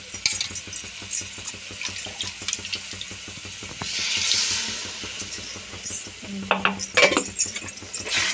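Water splashes and trickles into a pan of masala gravy amid clinking utensils, with a brief pour near the middle; no one speaks.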